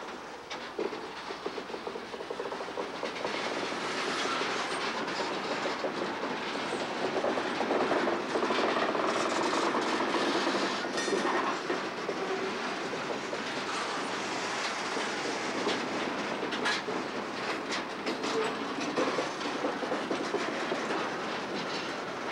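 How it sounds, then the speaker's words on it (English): A heavy train climbs a steep uphill grade, its locomotives labouring at full pulling effort, a dense continuous roar of engines and rolling wagons with steady clickety-clack of wheels throughout, close and loud. "This is a steep uphill grade with a heavy train. The locomotives are working at the limit of their drawbar pulling capacity."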